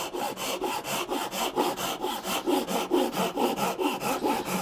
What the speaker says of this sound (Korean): 이렇게 맞춰놓고 또 톱질을 하는 거죠